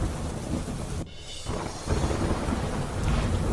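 Heavy monsoon rain pours steadily in Gujarat while a loud roll of thunder rumbles, briefly dipping before the downpour swells again.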